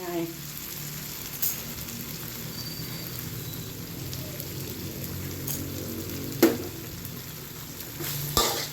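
Holy basil, minced pork and shrimp are stir-fried in a pan, giving a faint, steady sizzle with occasional scraping stirs and a couple of sharper clatters.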